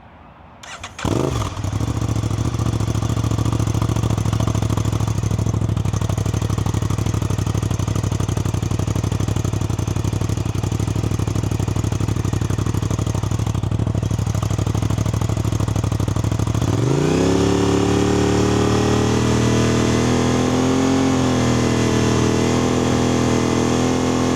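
An Aprilia RS660 motorcycle fitted with an SC Project CRT exhaust starts up, settles into a steady idle, then is held at a sustained higher rev, loud and close with no talk.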